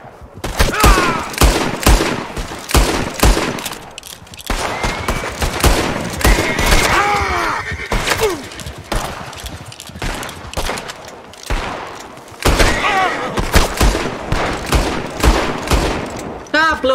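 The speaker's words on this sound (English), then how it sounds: "Excuse me, I'm trying to shoot you." Repeated gunshots ring out in Red Dead Redemption 2, sharp cracks in uneven bursts with short pauses between. They are mixed with game sounds and a player speaking now and then.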